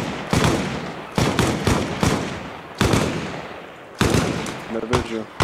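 Loud gunfire in the Arma Reforger Vietnam jungle setting, a string of sharp shots and bursts spaced irregularly across the moment, close and punchy over a steady background hiss.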